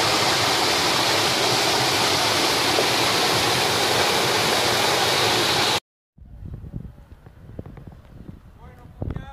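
A waterfall stream in El Salvador roars loudly as a constant rush of falling water for several seconds, then cuts abruptly to a quieter scene with voices.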